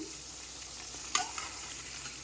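Kaima balls frying in butter in a pan, a steady soft sizzle with a brief scrape and clatter as they are turned.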